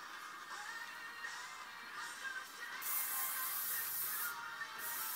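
Hairspray hisses from a can onto a mohawk, a soft continuous spray with a couple of stronger bursts, close but fairly quiet.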